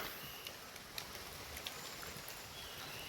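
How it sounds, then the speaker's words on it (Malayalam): Light rain beginning to fall outdoors: a faint, steady hiss with scattered soft drop ticks throughout, and no voices. "നല്ല മഴയും തുടങ്ങി"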